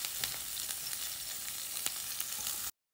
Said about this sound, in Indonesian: Terus kita siapin minyak sedikit aja, tumis bawang bombay